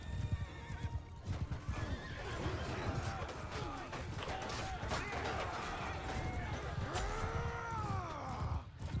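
Horses in Bannerlord, with repeated neighs and whinnies over a busy clatter of hooves and battle noise, loud and close with several calls overlapping, a voice faintly mixed in.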